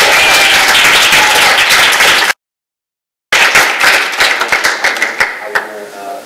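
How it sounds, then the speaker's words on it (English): Audience clapping at a spoken-word event, first a dense loud burst of many hands, a sudden gap of silence, then clapping resuming and thinning out into scattered individual claps that taper off. "Can we clap for Holly?"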